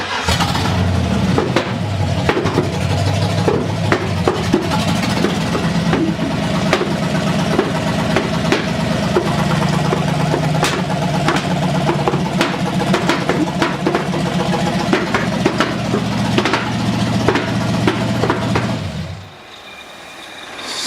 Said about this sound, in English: But she's just backfiring like crazy.